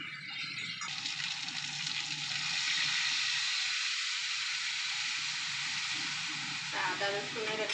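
Vegetables including beans, carrot, green chilli and a small onion fry in Amul butter in a pan, giving a steady broadband sizzle that swells slightly midway and stays loud and continuous throughout.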